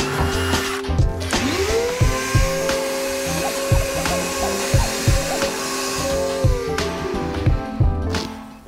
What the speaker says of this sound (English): So let's go ahead and get these holes drilled.